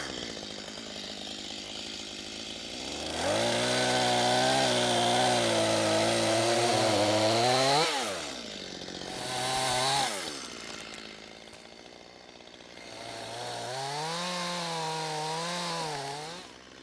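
A chainsaw cuts a wedge and back cut into a small tree, its engine rising into loud bogging bursts as the chain bites the wood, revving between cuts and easing back to idle in the gaps.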